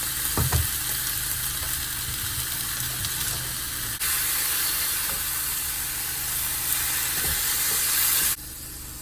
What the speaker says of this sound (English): I'm gonna go ahead and get my ground turkey cooked up here. Get the iron skillet nice and hot.